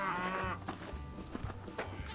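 Cows moo in Survivalcraft 2, a long low moo up close followed by shorter lowing calls from the same small herd, with no talk.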